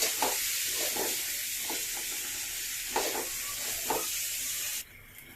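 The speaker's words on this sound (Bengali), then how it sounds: "এখন এই চাল এবং ডালটি মশলার সাথে সুন্দর করে ভাজতে হবে" Rice and lentils fry with spices in a pan for khichuri, a steady sizzle broken by several stirring scrapes, before the sizzle drops away abruptly near the end.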